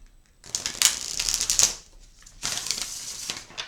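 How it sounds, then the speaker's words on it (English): Two crisp bursts of tarot cards with matte edges riffling together, each a rapid fluttering rush lasting about a second, close and fairly loud. "let's take a look at how these shuffle"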